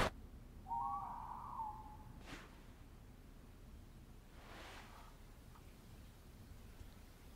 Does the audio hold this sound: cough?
no